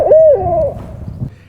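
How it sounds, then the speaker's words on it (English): In a backyard, one loud, close owl hoot with a soft trailing note fades quickly into low ambient rumble, and no voices are heard. "you say you might have heard an owl"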